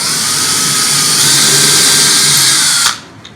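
Power drill pre-drilling a hole into a wooden workbench panel, one loud continuous high whine lasting about three seconds before stopping abruptly.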